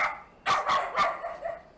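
Several dogs bark in a rural village where most houses keep at least one dog, giving a few sharp, close barks in quick succession with no talk over them.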